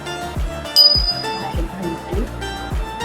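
A small brass puja hand bell rings during home worship, bright rapid repeated dings in a steady rhythm, close and fairly loud.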